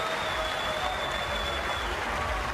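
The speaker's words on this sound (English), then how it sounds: "And listen to the appreciation from the crowd on hand here tonight." Crowd applauding after an amateur boxing bout at an IBA Champions' Night, a steady wash of clapping from a large hall, continuous and fairly loud with a faint tone running through it.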